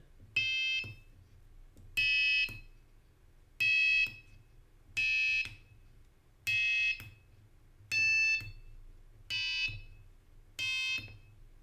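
Eight evenly spaced electronic beeping tones from a homemade digital piano, each a short buzzy note with a harsh metallic timbre, pitches shifting slightly and not forming a proper scale.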